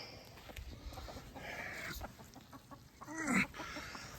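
Chickens cluck softly in the background, with one louder squawking call standing out near the end.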